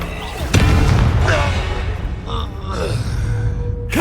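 Bombarda and Confringo spells in the Hogwarts Legacy video game set off a sharp booming blast followed by rumbling impact noise and smaller magical bursts, with voices in the game.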